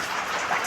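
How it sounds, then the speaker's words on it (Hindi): Heavy rain pours down in a dense, continuous hiss, loud and close, with no voices over it. "इतनी तेज़ बारिश आई है ना"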